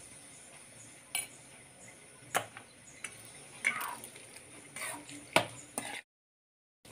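A spoon stirs curd rice in a bowl, making scattered sharp clinks and soft scrapes in an irregular rhythm, then the sound stops.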